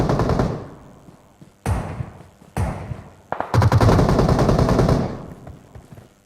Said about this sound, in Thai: มันยิงกันอยู่ก่อน